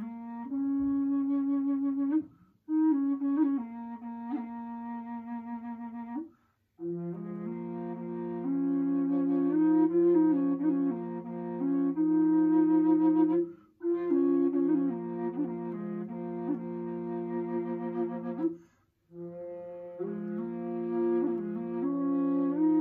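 Contra bass drone flute playing a Southern Native American style melody, a steady low drone under a higher melodic line in long sustained phrases broken by short breaths, close and clear with no talk.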